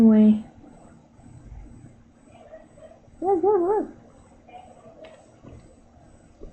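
An energetic adult dog barks and yips intermittently, with a sharp bark at the start and a whining, wavering yelp midway, while faint voices and background noise fill the gaps.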